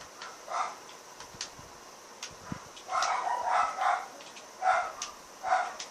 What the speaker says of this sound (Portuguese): que cachorro chato